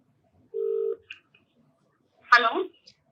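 A single push-button telephone tone sounds briefly, then a short blip as a call is placed, followed by a voice speaking.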